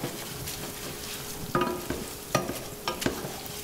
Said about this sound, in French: Donc mon riz, je le nacre. Je lui laisse absorber l'huile d'olive.